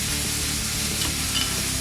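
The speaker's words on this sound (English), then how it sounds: "Can you hear those sausages sizzling away?" Steady, dense sizzling of sausages frying in a hot pan, continuous and close, with no talking.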